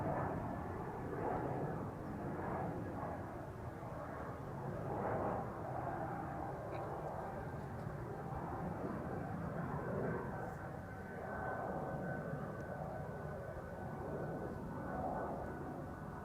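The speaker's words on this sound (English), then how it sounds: "So this is Aer Lingus, aka Shamrock, flight 603 to Dublin, Ireland. A320." An Aer Lingus Airbus A320 jet at Amsterdam Schiphol Airport produces a steady, distant engine rumble and whine, continuous and fairly faint without sharp changes.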